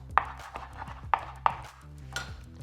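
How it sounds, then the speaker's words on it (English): A knife dices rotisserie chicken on a cutting board for buffalo chicken egg rolls, a few sharp, distinct chops spaced apart, close and fairly quiet with soft handling noise between them. "I'm going to dice them up, something like this"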